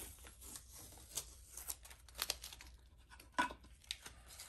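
Tape is peeled off a wooden cigar box during a speaker kit build, a close, quiet crackly tearing with a few sharp rips and sticky snaps, no speech.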